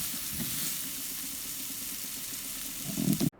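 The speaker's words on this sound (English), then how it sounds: "Saute well until onion gets transparent." Onion and salt sautéing in a pan: a steady, close sizzle of frying, with soft stirring scrapes that grow louder toward the end before stopping abruptly.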